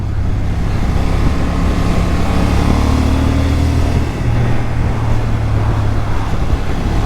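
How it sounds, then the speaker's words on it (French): Honda Hornet 750 twin-cylinder motorcycle with a 270-degree crank, exhaust droning steadily under way, a loud continuous low rumble mixed with wind and road rush over several seconds. "au niveau pot d'échappement, je trouve que le son est mieux travaillé"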